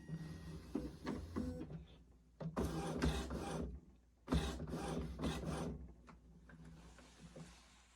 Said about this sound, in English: Then we're going to lift our lid and let the cartridges move around a little bit.